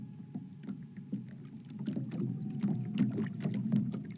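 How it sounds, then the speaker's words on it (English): Water lapping and splashing against a floating boat in a Unity-built first-person shooter game, a steady close wash of small irregular slaps that swells slightly louder toward the end, with no voices. "that's just the sound of just the boat floating in the water and like the water hitting against the boat"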